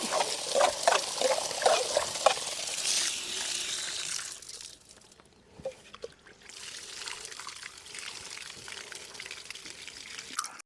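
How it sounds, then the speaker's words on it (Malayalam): Splashing and sloshing of cassava being washed in a vessel of water, with trickles and drips, quieter in the middle before the swishing resumes. "നമ്മൾ നല്ല കപ്പ കഴുകാൻ പോവുകയാണ് നല്ല നല്ല വൃത്തിക്ക് മൂന്നാല് വെള്ളത്തിൽ കഴുകണം"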